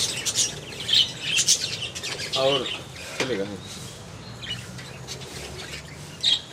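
Birds chirp and squawk inside a double-door aviary enclosure at a district science centre, mixed with a creaking mechanism, while a person speaks briefly nearby.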